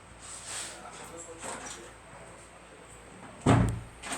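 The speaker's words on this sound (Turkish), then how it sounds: "Arkadaşlar ses geliyor diye ben kapıyı kapattım." A door thuds shut indoors, one sharp, fairly loud close after a stretch of quiet room noise.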